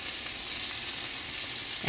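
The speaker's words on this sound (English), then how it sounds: "when you're frying your burgers, you don't wanna flatten them too bad" Burgers frying in a pan for a patty melt, a steady close sizzle and crackle throughout, with a faint clunk at the very end and no talk.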